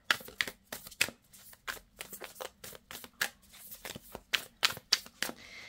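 Tarot cards shuffled and drawn by hand for a reading, a rapid irregular series of crisp papery flicks and slaps, close and fairly quiet, with no talking.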